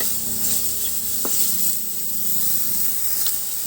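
Fatty meat sizzles in its own rendered fat in a pan while ramen is being cooked, making a steady close hiss of frying that carries on for the whole stretch with small crackles and no talking.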